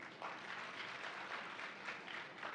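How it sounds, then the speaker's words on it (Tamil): Audience applause at a Tamil motivational talk, a steady wash of clapping that runs throughout, fairly distant and moderately quiet with gentle swells and no voices on top. "இது கூடுதலா கைத்தட்டல் வரும் எப்பவுமே"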